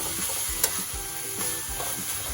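Red amaranth greens cook in a pan, sizzling steadily while a spatula stirs them with repeated soft scraping strokes and one brief clink, up close and with no talking.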